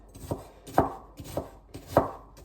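A knife chops an onion on a cutting board in a home kitchen, giving a few evenly spaced thuds, close and clear, with no talking.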